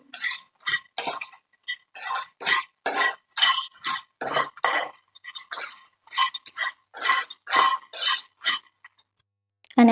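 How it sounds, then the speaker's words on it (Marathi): Makhana (fox nuts) roast in a pan and are stirred steadily, producing a regular run of dry, rustling scrapes, each sweep a short burst with brief pauses between, close and fairly loud. "इथे मी एक मिनिट भर व्यवस्थित भाजून घेणार आहे आणि कंटिन्यू इथे मी मिक्स करत आहे"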